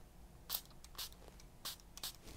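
Several short, soft hissing bursts of water sprayed from a pump mister onto an eyeshadow palette, quiet and spaced apart, with no talk.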